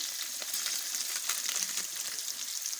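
Fried rice seasoned with fried rice spice sizzles steadily in a pot while being stirred, a dense hiss with faint scraping touches from the stirring, close and constant throughout.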